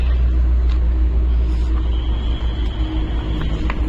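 A car's engine idles and then pulls away at the start of a trip to Bhimashankar, a steady low rumble that is close and continuous, with a few faint clicks and knocks over it.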